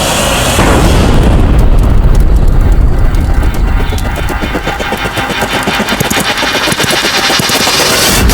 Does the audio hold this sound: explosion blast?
yes